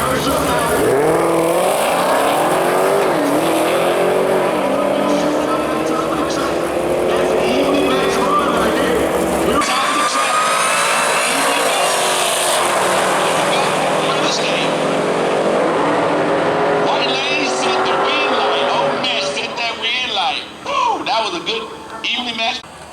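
Drag race cars, including an old Cadillac CTS wagon, launch and roar down the strip at Worldwide Technology Raceway, a loud sustained engine blare that cuts off midway, then more distant engine noise while an announcer talks over it.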